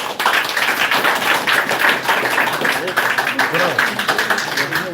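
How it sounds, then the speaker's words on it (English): An audience at a Liberian political assembly and press conference claps in a steady, busy patter, while a voice keeps speaking over the applause throughout. "Round of applause for him."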